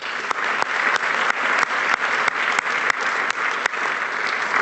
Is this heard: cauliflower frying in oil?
no